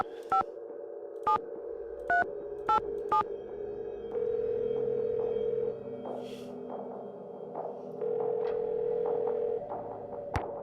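A phone in the video game White Wolf of Icicle Creek sounds a steady electronic tone with a string of short beeps at the start, then a longer tone pattern, near and clean, with no talk.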